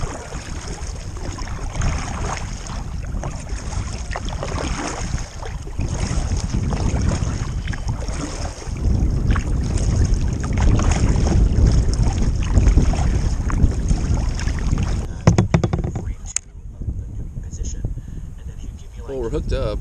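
Gusty wind sweeps across the north end of a lake during a kayak fishing trip, buffeting loudly with a low rumbling roar and surging throughout, then briefly dropping near the end.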